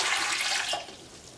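Lukewarm water, about 500 ml, pours steadily into a bowl for Turkish gözleme dough, a brief continuous splashing rush that tapers off near the end.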